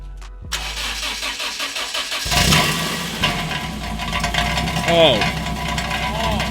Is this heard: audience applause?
no